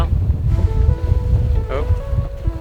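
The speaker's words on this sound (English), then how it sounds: "Here we are in a little bit of a gust right now." Wind gusts roar over the deck of a sailing boat underway, a loud, buffeting low rush with water wash beneath and faint rigging tones.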